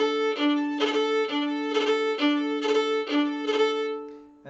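An Irish fiddle is bowed close to the bridge in repeated short strokes, each giving a bright, harmonic-rich, slightly harsh tone. About eight strokes play in an even rhythm, close and clear with no talk.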